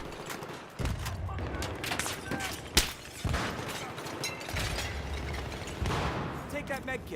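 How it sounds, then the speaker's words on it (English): Sniper fire and gunshots in a Metro Conquest match, with repeated sharp cracks and bursts of gunfire over a busy battle din. Someone talks throughout. "Probably taking sniper fire right there."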